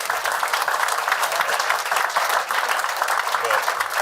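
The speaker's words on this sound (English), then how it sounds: "Let's give him a round of applause for that." An audience at a council meeting applauds, giving a continuous, full wash of clapping at a steady loud level, with a faint murmur of voices underneath.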